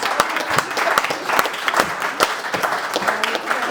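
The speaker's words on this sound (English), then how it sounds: "A round of applause for Peter. For Jonathan. For Doug." Applause from the audience at a student improv comedy showcase, a mix of sharp individual claps and a dense crowd patter, steady and moderately loud throughout.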